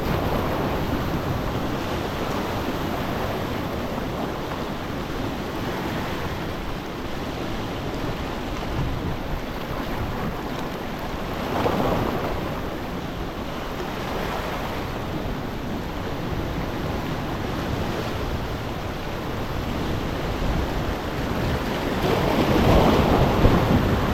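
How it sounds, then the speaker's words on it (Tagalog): Large ocean waves break and surge continuously at sea near a fishing spot, a loud, rolling wash of surf with wind buffeting the microphone throughout. "Hindi masyadong malaki yung mga alon dyan."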